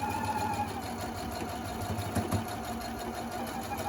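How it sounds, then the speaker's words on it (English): A sewing machine stitches a fabric mask, giving a steady, moderately loud mechanical whir that runs unbroken for the whole few seconds with no voices. "Do not sew over any sewing pins if you have any sewing pins in there."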